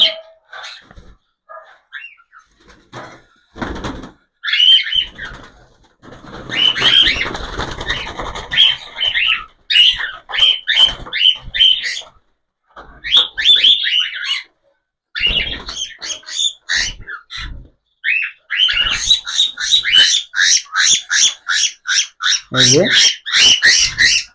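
Squawks and shrill calls from an adult pair of cockatiels, loud and near, come in dense repeated bursts with brief gaps, alongside scattered clatter and faint voices.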